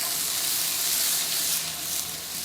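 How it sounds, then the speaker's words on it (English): Onions sizzle steadily in a pan with curry and aniseed, a close, continuous frying hiss that holds even throughout with no voices. "So while that's frying up"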